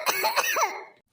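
A child coughs several times in quick succession at close range, a short harsh burst of three or four coughs with a throat-clearing quality that trails off into silence.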